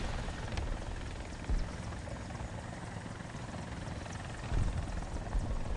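A helicopter in the combat game War Thunder drones steadily throughout with a low rotor and engine rumble, a continuous mechanical hum that swells slightly at moments.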